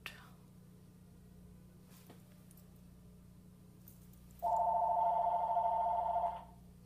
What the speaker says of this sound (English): Of course, the phone would ring in the middle of this.